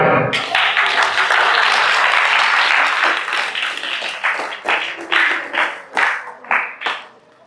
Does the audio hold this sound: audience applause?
yes